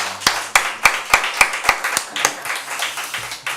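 A church congregation claps in a steady, evenly spaced rhythm, sharp distinct hand claps about every third of a second, close and fairly loud, with no voices over them.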